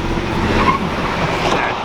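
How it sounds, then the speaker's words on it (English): A nearby car engine revs hard in a short burst, its loud growl rising and holding. "This is my engine rev."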